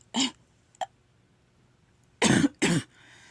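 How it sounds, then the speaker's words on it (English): A single cough followed by a short throat sound, then two heavier coughs in quick succession, close to the microphone in a quiet indoor room. "Had to pause because I had a cough"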